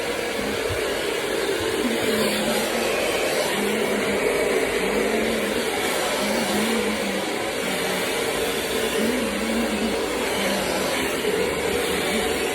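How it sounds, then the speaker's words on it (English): A handheld blow dryer runs steadily at close range while drying natural hair during protective styling, a continuous whirring roar with a faint wavering tone that never stops. "Get my blow dryer out. Get your blow dryer and you start doing it."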